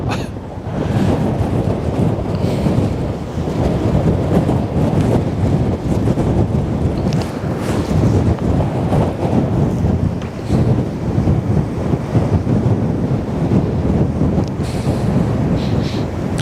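Strong wind at the Westerschelde shore roars and buffets the microphone loudly and continuously, with low gusty rumble and faint surf beneath, no voices.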